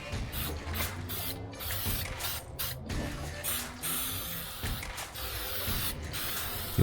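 Aerosol paint sprayed in repeated hissing bursts onto a rust repair on a Mazda Miata, steady close spray with brief pauses between light passes, no talking.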